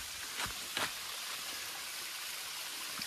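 Steady broadband rush of a mountain waterfall, a continuous quiet wash of falling water with a few brief splashy bursts near the start.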